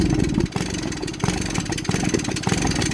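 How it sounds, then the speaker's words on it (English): A Honda Grom clone motorcycle with a newly changed ignition coil sputters and stumbles near idle after full throttle, its engine note dipping and surging unevenly as if about to die, loud and close without talk. "That was full throttle right there, and it almost died."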